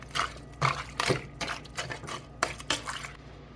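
A spoon stirs shrimp and crab chowder ingredients in a pot, giving a quiet series of soft scraping, clinking strokes at a steady, unhurried rhythm.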